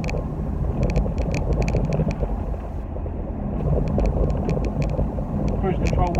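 An Audi TT 3.2 coupe with a six-speed DSG gearbox driving, its steady engine and road rumble heard from inside the cabin with someone talking over it throughout.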